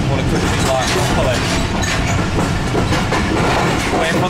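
Passenger train on Pakistan's longest rail journey, rolling with a steady rumble and faint clattering from the wheels under continuous talk aboard.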